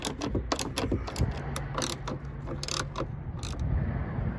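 Ratchet with a 10mm socket backing off bracket nuts on a Porsche 991 GT3 during a side muffler bypass install, a steady stream of quick mechanical clicks close by over a low background hum, no speech.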